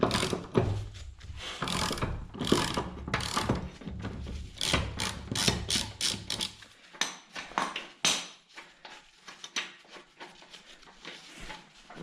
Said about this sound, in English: I'm glad I brought down the other ratchet.